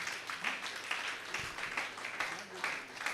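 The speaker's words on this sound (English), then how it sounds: "Can we give him another round of applause, please?" Applause from a seated audience of CNP members at a Kwara gathering, a steady patter of many hands clapping with faint voices underneath throughout.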